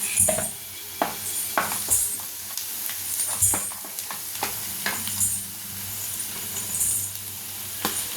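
Paneer is sautéed with onions and salt in a pan for a spicy pepper paneer fry, giving a steady sizzle under repeated scraping and clinking spoon strokes against the metal.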